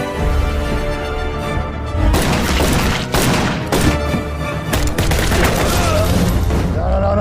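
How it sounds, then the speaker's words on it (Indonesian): Loud bursts of gunfire crack out in several clusters over a continuous music score, sharp and close. "Satu tembakan tajam dari King mengakhiri nyawa Shcherbakov."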